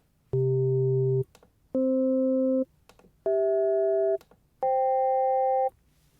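Casio VZ-1 ring mode oscillator emulated in Pure Data, with oscillator 1 stepping upward through four sustained pitches, each steady harmonic tone lasting about a second and separated by short silences.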